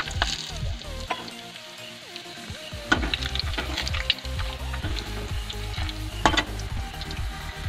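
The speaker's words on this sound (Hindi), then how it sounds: "तो भाई पहले बढ़िया तेल में फ्राई कर लेंगे।" Food frying in hot oil, a steady close sizzle with crackles and occasional clinks of a stirring utensil, continuous throughout.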